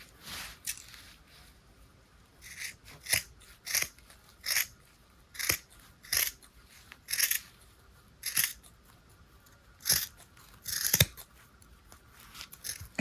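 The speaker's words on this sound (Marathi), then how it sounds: "बघा आपल्याला अख्खा बाजू कापून घ्यायची." Scissors cutting through the side of an empty metal oil tin, producing a series of crisp, separate snips at an uneven pace, close and fairly quiet, with near-silence between cuts.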